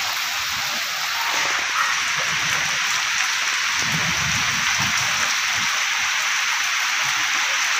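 Heavy rain pours down steadily in a thunderstorm, a dense even hiss throughout with faint low rumbles of thunder in the background on a morning in Odisha.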